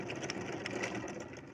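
A sewing machine whose feed dog is not pulling the cloth runs steadily, a fast, even mechanical whir and clatter heard up close and alone for a brief stretch.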